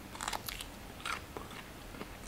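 Crunchy bite into a pale, juicy Indonesian snake fruit, giving several close, crisp crackling crunches with short pauses between them and no talking.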